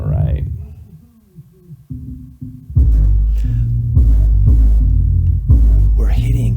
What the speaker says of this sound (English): So if you ever wondered what 10-inch subwoofers hooked up to a head unit would sound like